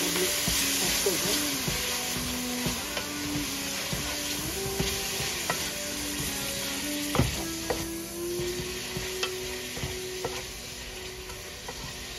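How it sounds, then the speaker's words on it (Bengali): Meat and ginger sizzle steadily in a hot pan, with repeated scraping stirs and the clack of a spatula against the metal. The frying stays close and even throughout, with no talking. "মাংসটা আমি একটু ভুনে দিয়েছি, একটু আগে কষে নিব"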